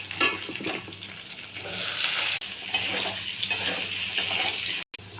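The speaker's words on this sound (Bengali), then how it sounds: "এবার আলুগুলো ভেজে নেব।" Potatoes frying in hot oil in a pan on a home stove, a steady dense sizzle with occasional stirring scrapes, close and continuous, no talk.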